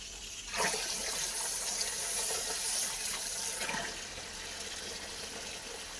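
A cow drinks water, with steady, close splashing and gushing that swells for about three seconds, then settles into a softer continuous wash with no voices.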